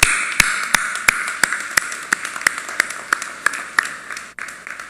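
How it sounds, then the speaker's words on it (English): Applause at a community college graduation ceremony, heard as a single set of distinct, evenly spaced sharp claps, close and crisp, about a dozen in a row before fading off. "Do accept my resounding round of applause for a job well done"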